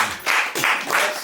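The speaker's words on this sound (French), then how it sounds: "Puisque vous êtes des humanitaires, nous vous applaudissons avec les deux bras" A group claps together in a short, dense burst in three surging waves, fairly loud, welcoming humanitarian visitors in a Senegalese village.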